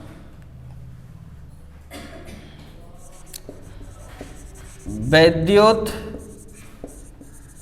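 Chalk or marker scratching across a classroom board during a Hindi-language physics lesson, light strokes and taps throughout with a busier burst of writing near the end, heard under a teacher's speech.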